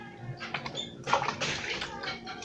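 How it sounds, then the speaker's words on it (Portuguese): Hands being washed under a running tap in a home kitchen during lunch prep, a steady splashing water stream with brief louder splatters, close and moderately loud. "Eu vou lavar a mão aqui"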